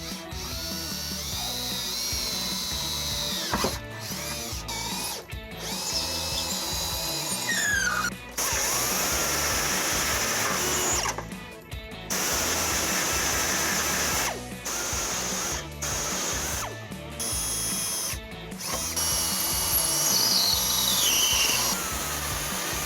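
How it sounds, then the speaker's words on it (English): A power drill with a 3/16-inch bit whirring loudly in long bursts while drilling a hole for a trailer hitch on a 2016 Toyota Camry, stopping briefly several times before spinning up again, close by. "I'm going to start off with a 3/16 drill bit and then step my way up to make our hole as big as we need"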